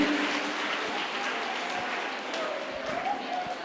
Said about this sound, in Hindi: तो ये लड़के के लिए फिर एक बार तालियां